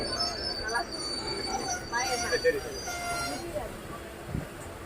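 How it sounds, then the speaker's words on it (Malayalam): A passenger train pulls out of Paramakudi railway station on the Rameswaram line, with clanking and faint squealing of wheels at moderate distance while someone talks over it. "ഇതപ്പം പരമക്കുടി റെയിൽവേ സ്റ്റേഷനിൽ നിന്നും വീണ്ടും പുറപ്പെട്ടിരിക്കുകയാണ്"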